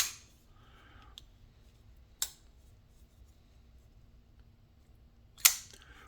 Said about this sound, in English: that detent, that Spidey flip with that finger stud